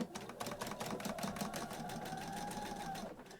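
Sewing machine stitching fabric for a storage caddy, a fast, even rapid-fire needle clatter close up, running steadily for a few seconds before stopping.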